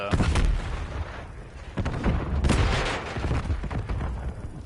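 Explosions and gunfire from the video game Call of Duty: Black Ops 6 rumble in the background, several booming blasts and crackling shots rising and fading across a few seconds.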